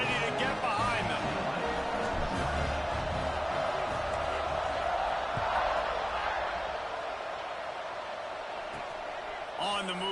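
A stadium crowd in a College Football 26 Notre Dame game roars and murmurs as a broad, steady wash under a commentator's talk, slowly easing off toward the end.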